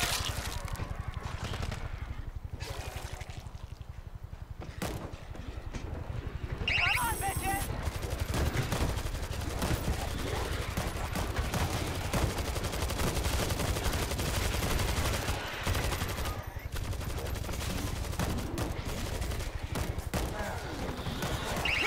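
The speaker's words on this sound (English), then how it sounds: "Auto turret's locked and loaded." Auto turret gunfire in the zombie shooter World War Z rattles in dense, continuous bursts, loud and close, with short pauses and a busy game soundscape underneath.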